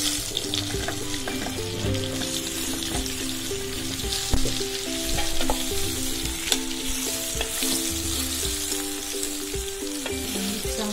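Banana slices fry in hot spiced oil in a pan, giving a loud, steady crackling sizzle that runs unbroken throughout, with occasional faint stirring clinks.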